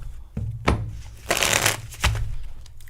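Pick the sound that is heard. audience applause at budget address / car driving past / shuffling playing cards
shuffling playing cards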